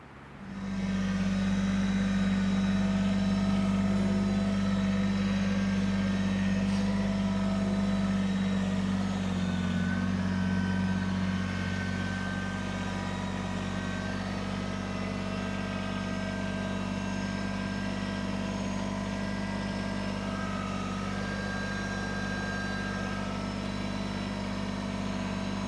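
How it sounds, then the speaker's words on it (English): Kubota tractor fitted with a Piranha bar digging and scooping dirt for a retaining wall, its diesel engine droning steadily and loud throughout with a strong low hum, rising briefly under load early on, no talk. "I'm going to take the Kubota and I'm going to try and scoop this out a little bit and clean it up."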